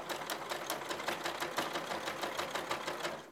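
A sewing machine runs steadily while stitching around a fabric circle, its rapid even needle clatter repeating in a tight rhythm, close and fairly quiet, with no talking.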